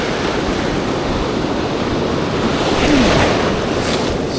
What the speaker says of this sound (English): These waves keep coming up high.